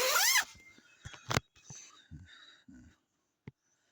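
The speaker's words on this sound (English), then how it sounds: "Okay, zipper this up." A tent zipper rasps shut in a quick pull up close, followed by soft rustling and a few light handling taps.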